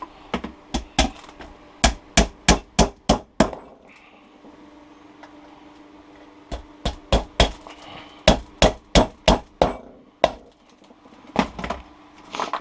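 Hammer blows on a wooden beehive being assembled, landing as two quick runs of sharp, evenly spaced strikes separated by a short pause, close and loud with no talking.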